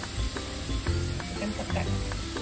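Petai beans drop into oncom frying in a pan, giving a steady close sizzle with a few scraping stir clicks and small bursts, and no one speaking.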